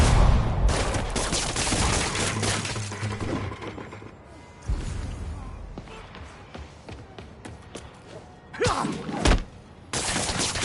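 Gunfire and thudding impacts from the Marvel's Spider-Man video game on a PS4 Pro, with dense bursts of shots and crashes, a quieter lull in the middle, then renewed loud blasts near the end.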